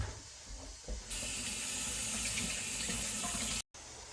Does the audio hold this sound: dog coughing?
no